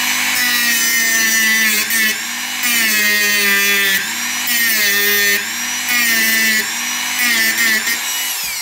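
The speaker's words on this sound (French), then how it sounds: "Donc vous limez à plat comme ça" Metal file drawn flat across a Victorinox knife, loud close rhythmic rasping strokes repeated one after another in an even back-and-forth cadence.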